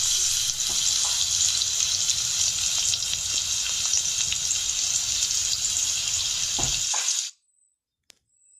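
Stuffed teasel gourd (kakrol) fries in hot oil with a loud, steady, close sizzle that runs for about seven seconds, then cuts off abruptly into near silence.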